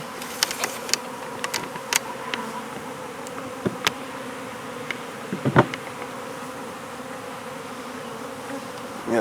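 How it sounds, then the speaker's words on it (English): Bees buzz close around a person in the early morning, a steady hum broken by several sharp, loud passes of individual insects right by the ear. "Yeah, bees all over me."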